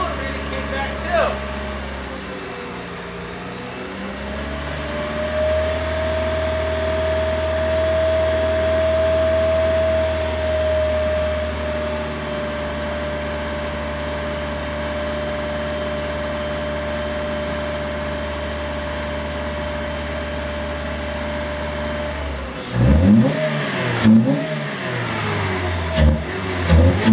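A Chevrolet Cobalt engine idles steadily while warming up, a smooth mid-pitched hum that holds for most of the stretch, then a few short revs rise and fall near the end. Some talking can be heard over it.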